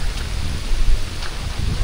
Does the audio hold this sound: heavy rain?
yes